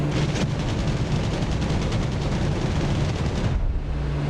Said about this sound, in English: I love the kick that the airplane experiences when you're firing the cannons